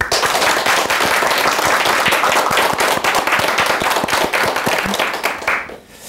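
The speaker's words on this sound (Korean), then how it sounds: "큰 박수로 스님께 법문 청해보겠습니다" A crowd applauds loudly and steadily to welcome a monk's Buddhist dharma talk, a dense patter of clapping that fades out at the very end.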